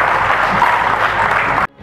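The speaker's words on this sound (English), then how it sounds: "a big round of applause," Loud, steady applause from an audience at the Penang Butterfly Farm anniversary event, a dense sustained crackle that cuts off abruptly near the end.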